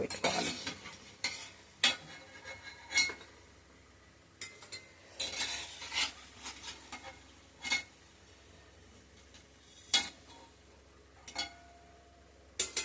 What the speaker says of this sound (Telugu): గారెలు ఈ విధంగా మంచిగా గోల్డెన్ కలర్లో వేగిన తర్వాత మనం ఇట్లా తీసి పక్కకు పెట్టుకోవాలి.